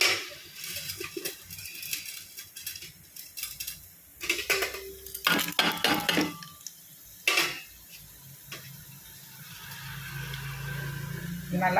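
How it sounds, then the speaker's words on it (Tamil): Chana dal tipped into hot oil in a pan and stirred, metallic clinks and scrapes of a spoon against the pan with a faint sizzle underneath, the clatter coming in irregular clusters. "இப்போ நான் இந்த கடலைப்பருப்பை இதில் போட்டுருவேன்."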